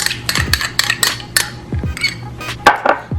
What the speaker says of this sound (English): we're just going to give this a mix